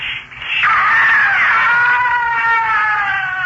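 A man's loud, sustained scream jumps up in pitch, then wavers and slowly sinks, heard alone without talk.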